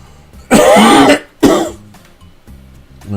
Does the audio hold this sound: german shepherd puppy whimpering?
no